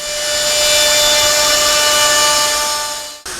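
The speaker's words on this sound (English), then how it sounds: "this edge trimmer, this is the MFK 700, along the bottom edge" A Festool MFK 700 edge trimmer trimming edge banding, a loud, steady, high-pitched motor whine with cutting noise that runs continuously for about three seconds, then stops abruptly as the motor cuts off.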